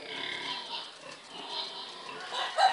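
Pigs grunt and snort softly at a rural farm, a few scattered low calls spread across the moment with a slightly louder grunt near the end, fairly close.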